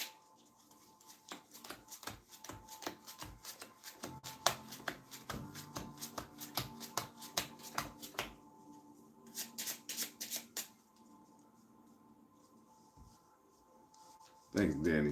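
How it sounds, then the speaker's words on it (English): Playing cards shuffled by hand, a long run of rapid, crisp riffling bursts and snapping bridges in close, quiet detail, then a pause and a brief rustle at the end. "let's shuffle."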